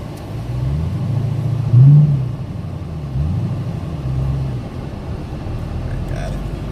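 A Dodge Hellcat V8 with a heavy manual clutch rumbles low and steady, swelling in a couple of brief rev surges before settling back, with indistinct voices nearby.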